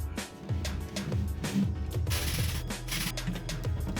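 A ratchet tightens the last bolts while a six-door closet is being assembled. The clicking is steady and rhythmic, with some creaks and handling noise, close by and with no voices.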